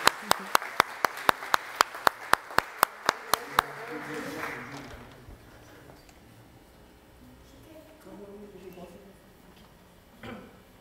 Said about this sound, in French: On va les applaudir pour leur donner un peu de courage.